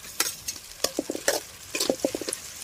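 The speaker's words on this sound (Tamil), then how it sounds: "தக்காளி வெங்காயம் மீன் வீட்டு மசாலா போட்டு நல்லா அதையும் போட்டு எண்ணெயிலே வதக்கி முடிச்சிடலாம்" Tomato and onion sauté in oil with masala for a dried-fish curry, with a soft sizzle under close, quick stirring scrapes that come in clusters of short knocks.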